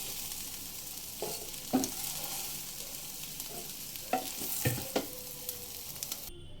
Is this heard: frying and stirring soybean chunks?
yes